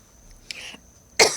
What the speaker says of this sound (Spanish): tengo que toser.